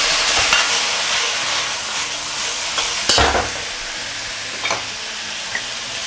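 Meat being stir-fried in a wok with spicy chili sauce, a steady close sizzle broken by several sharp spatula scrapes and stirs, with no talk.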